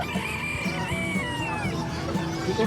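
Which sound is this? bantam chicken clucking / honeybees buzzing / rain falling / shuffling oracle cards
bantam chicken clucking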